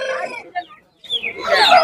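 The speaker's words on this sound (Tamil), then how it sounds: "மூணு கிலோ ஒரு சேவல் நல்லா ஜம்முன்னு இருக்கு" A large three-kilo rooster at the Kunnathur weekly market gives nearby, loud clucks and then breaks into a strained crow, with market voices faintly mixed in.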